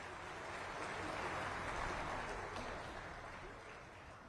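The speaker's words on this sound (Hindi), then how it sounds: "जोरदार तालियों के साथ" Crowd applause at an airport inauguration ceremony in Kushinagar, a dense, distant-sounding wash of clapping that swells and slowly fades, with faint voices mixed in.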